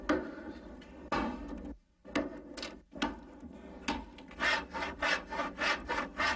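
Roughing out a small wooden Buddha statue from a log with carving tools: repeated rasping, scraping strokes on wood, close and fairly loud, with a brief pause and then quicker rhythmic strokes toward the end.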